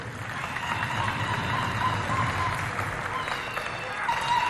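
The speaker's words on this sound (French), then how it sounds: "je vous demande très humblement d'applaudir très fort" An audience at a youth holiday event applauds its supervisors, a steady moderate clapping wash with a murmur of voices and a thin tone running underneath.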